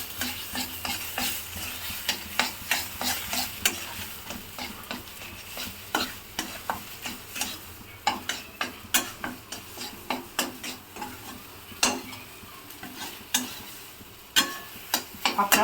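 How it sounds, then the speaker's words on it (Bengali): Fish fries in a pan at medium heat for fish cutlets, a constant low sizzle punctuated by repeated scraping and tapping strokes of a spatula, with no voices. "ভালো করে যাতে মশলার গন্ধগুলো যাতে না আসে সেরকম মাছটাকে ভেজে নিতে হবে।"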